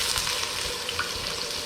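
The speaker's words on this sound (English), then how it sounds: "You're just trying to get that sear on the outside." Beef searing in an Instant Pot, giving a steady, close sizzle and crackle of hot fat with small pops and no pauses.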